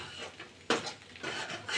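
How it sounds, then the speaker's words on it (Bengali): A spatula scrapes and stirs potato fry in a pan, quiet rubbing strokes with one sharper scrape partway through, close and faint with no talk. "এই পর্যায়ে ভাজিটা অনবরত নাড়তে হবে, না ছাড়া ভাজিটা পুড়ে যাবে।"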